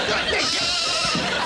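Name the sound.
sheep bleating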